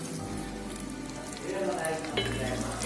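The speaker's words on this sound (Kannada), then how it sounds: "ಗೋಡಂಬಿ, ತುಪ್ಪ ಹಾಕಿ ನಾನು ಕರಿತಾ ಇದ್ದೀನಿ." Cashews fry in hot ghee in a pan, a steady crackling sizzle that swells louder midway as the pieces are stirred, close up with no voices.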